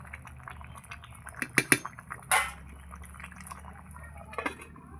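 A metal lid clatters onto a cooking pan with a few sharp clinks and a brief scrape, over a faint simmering hiss in a home kitchen where an omelette and egg-soybean curry are being made.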